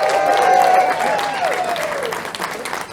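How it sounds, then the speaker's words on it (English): Loud, warm applause from a comedy show audience greets a comedian taking the stage. A whistle or cheer sweeps through it as the clapping continues at full strength. "How about a nice big warm, tell us another one, round of applause."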